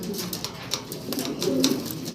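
Pigeons for sale at a farm coo close by in a steady, overlapping series of soft, throaty calls, with no talking.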